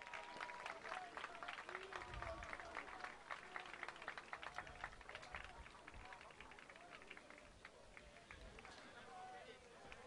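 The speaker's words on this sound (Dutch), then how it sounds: "Mag ik alsjeblieft een warm applaus voor de geblesseerde Black Angel speler die het veld afgedragen wordt?" Crowd in a stadium applauding an injured Black Angels American football player being carried off the field at the Belgian Bowl, a steady wash of clapping and cheering with a murmur of voices running throughout.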